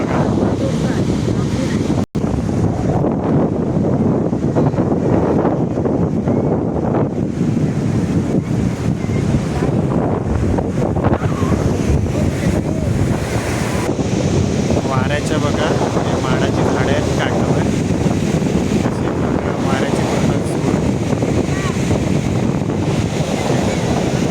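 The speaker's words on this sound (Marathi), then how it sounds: "हे लाटा पूर्ण काठावर येऊन धडकतात" Rough sea waves crash onto the shore at Achara beach on the Konkan coast near Malvan, a loud, continuous surging roar mixed with heavy wind buffeting the microphone throughout.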